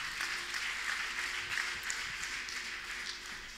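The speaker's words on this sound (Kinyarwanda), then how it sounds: "Mumumpera amashyi cyane." Applause at a wedding ceremony: a crowd claps continuously and fairly faintly at a distance, a steady patter of many hands throughout with light voices mixed in.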